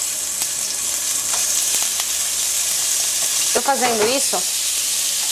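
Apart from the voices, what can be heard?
bacon frying in a little oil in a frying pan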